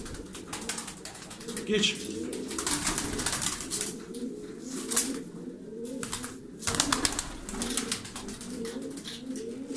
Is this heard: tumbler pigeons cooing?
yes